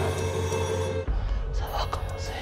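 A telephone rings inside a haunted manor attraction, its bell audible under steady background noise and a low hum while people talk nearby.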